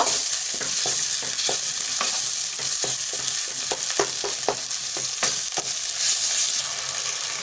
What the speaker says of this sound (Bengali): তো আমার মশলাটা খুব ভালোভাবে কষানো হয়ে গিয়েছে